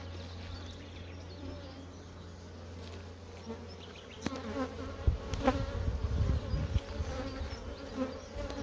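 Honeybees swarm and drone around a busy beehive during nectar collection, a steady close buzzing that thickens and grows louder partway through as more bees fly past.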